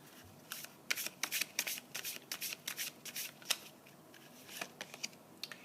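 Tarot cards are shuffled and drawn in a quiet room, a steady run of crisp riffling flicks and soft slaps close by, with no talking.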